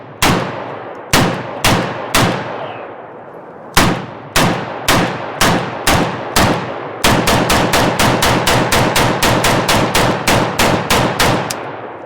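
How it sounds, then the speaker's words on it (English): An AK rifle fires Polish milspec 7.62x39mm Grom ammunition at a range: several spaced single shots, then a fast run of sharp, loud, close reports, each with a short ringing decay. "the shockwave on that gun is unbelievable"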